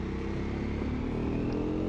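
Engine of a 2025 Triumph Scrambler 400 XC motorcycle pulls steadily under acceleration, a continuous close rumble with rising tone and wind noise throughout.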